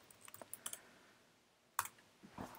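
A terminal command typed on a computer keyboard: a quick run of light key clicks, a pause, then a sharper keystroke and a few final taps, close and quiet.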